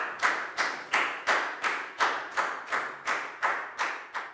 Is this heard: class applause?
yes